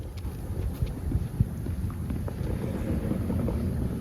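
Strong wind buffets the microphone in a steady low rumble with gusty swells, no voices, on an outdoor disc golf course.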